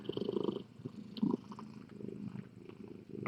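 Close, gentle purring from a cat, a brief low rhythmic rumble that runs without a break.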